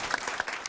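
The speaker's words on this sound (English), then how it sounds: "if we can give these fine educators a round of applause one more time." An audience at a school board meeting gives educators a brief round of applause: soft, fairly distant clapping lasting under a second.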